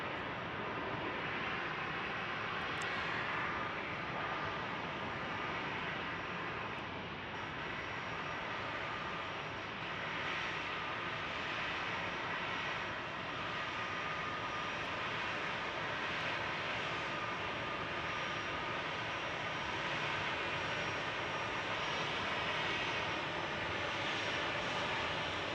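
An airliner arriving from Charlotte, North Carolina at Phoenix Sky Harbor Airport makes a steady, loud, broadband engine rumble and hiss that holds throughout without fading.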